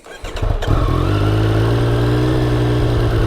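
A 2020 Triumph Street Triple R 765 motorcycle engine catches after a brief crank, then settles into a loud, steady, throaty idle close by.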